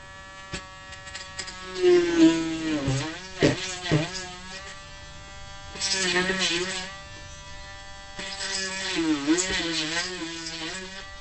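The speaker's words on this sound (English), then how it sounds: "Take our Dremel." A Dremel rotary tool drills a hole through a large craft bead, its high whine rising and sagging in pitch over three separate bursts of cutting.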